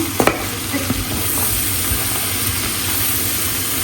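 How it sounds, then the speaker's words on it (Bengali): Prawns fry in a pan with a loud, continuous sizzle and a few sharp clatters near the start, close by and without speech. "চিংড়ি মাছটা একটু ভাজি করে নিচ্ছি"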